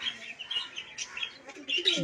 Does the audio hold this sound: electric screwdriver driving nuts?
no